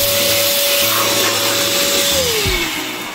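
A powered air blower roars loud and steady at close range as it blows dust out of a PC tower. Its whine holds one pitch, then drops as the motor winds down near the end.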